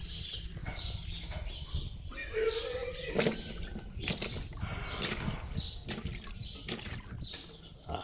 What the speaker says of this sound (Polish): Z rur spływa woda i ciśnienie.